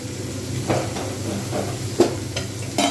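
A steady sizzle of ridge gourd and potatoes frying in a pan over medium-high heat, with a few louder crackles and stirring scrapes popping up through the constant hiss.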